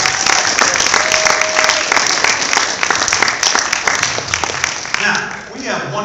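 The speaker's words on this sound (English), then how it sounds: "Give them a big round of applause." Audience at an after-prom hypnosis show giving a loud round of applause, dense clapping and cheers throughout with voices mixed in, tapering slightly near the end.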